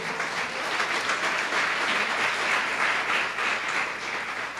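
A church congregation claps together in sustained, even applause, close and full throughout with no voices standing out.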